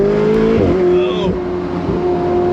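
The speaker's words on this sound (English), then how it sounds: "Shifts so hard, folks. This is a dual clutch transmission." A Ferrari 488 Spider with a dual-clutch transmission accelerates hard, its engine note rising and then dropping sharply at two quick gear shifts, loud and close.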